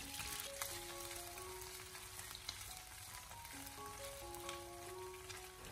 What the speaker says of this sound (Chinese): 我们将鱼块给它慢慢的煎，将鱼块给它煎至微微的金黄焦香以后